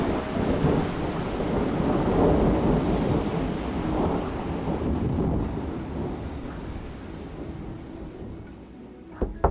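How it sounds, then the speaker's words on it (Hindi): Torrential rain pours with strong wind and deep rumbling thunder, a dense continuous roar that slowly eases and thins toward the end, with a couple of sharp knocks at the close and no voices. "बाहर मूसलाधार बारिश हो रही थी और तेज हवाएं चल रही थी।"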